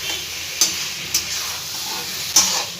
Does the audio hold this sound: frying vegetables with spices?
yes